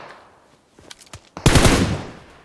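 Automatic gunfire from the PUBG Mobile battle royale game: a few sparse single shots, then a loud sustained burst of rapid fire up close, with no talking.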